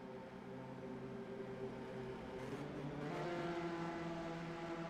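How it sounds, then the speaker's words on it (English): A field of race cars lined up two by two at Kentucky Speedway holds a steady droning engine note that builds and revs higher before the green flag, heard from a distance with no talk. "we hear the engines start to rev up even more"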